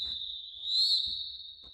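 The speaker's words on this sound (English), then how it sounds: "Rolling whistle means we are back" A referee's rolling whistle during a roller derby game, one sustained trilled blast that swells in the middle and carries on for nearly two seconds over faint background noise.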